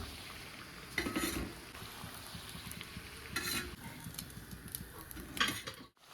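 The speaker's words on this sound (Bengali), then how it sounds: "এইভাবে আমি লাল লাল করে ভেজে নেব আর তুলে নেব" Fritters fry in hot oil with a soft, continuous sizzle, and a spoon scrapes and stirs the pan in a few brief bursts over the bubbling.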